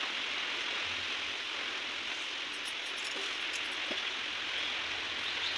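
Steady rain falls during a Janmashtami celebration at a home in Odisha, a dense, even hiss that runs unbroken throughout, with a few faint drips and knocks.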